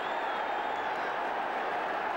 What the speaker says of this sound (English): the roar from the crowd had nothing to do with this match